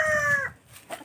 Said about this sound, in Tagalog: Mga manok panabong guys